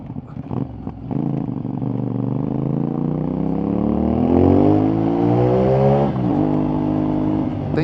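A CFMOTO 450NK motorcycle engine revs up alone and close by, its pitch climbing steadily for several seconds before dropping back, with a brief lower blip near the start.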